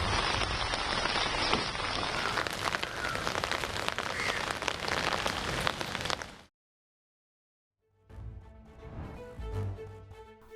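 Heavy rain pours steadily onto a road, a loud dense hiss that cuts off abruptly into silence, then returns more faintly with scattered drops and a lower wash.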